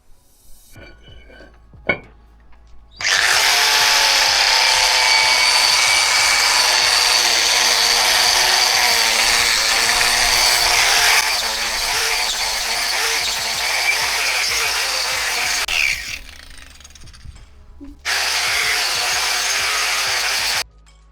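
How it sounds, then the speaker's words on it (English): A wire wheel on a power tool whirs up and grinds steadily against a rusty Holden HQ-WB brake rotor for about fifteen seconds, pauses briefly, then resumes with a harsh, scratchy abrasive hiss. "Now I'm going to hit it with the wire wheel"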